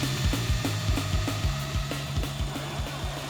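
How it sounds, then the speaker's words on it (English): A maxed-out power drill spins a massive top, giving a loud, steady motor whir with a regular rhythmic thumping pulse of about three beats per second, heard alone without talk. "now we have a maxed out drill"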